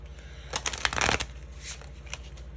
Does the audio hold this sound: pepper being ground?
no